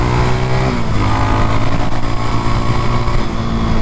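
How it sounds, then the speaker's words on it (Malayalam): A Yezdi Scrambler motorcycle labours uphill under load, its engine droning loud and close with a steady throb and a shift in pitch partway through. "ഒരു സ്ട്രെസ്സും ഇല്ലാതെ വണ്ടി കയറുന്നത് കേട്ടോ"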